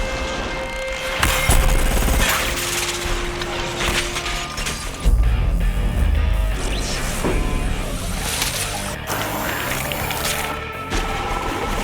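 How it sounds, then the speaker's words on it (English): Glass bursting outward in an ever-expanding circle as a film effect: dense, loud crashing and shattering textures with sharp impacts and whooshing debris, built into a busy layered burst that swells at several points. "We wanted the glass to explode in sort of an ever-expanding circle"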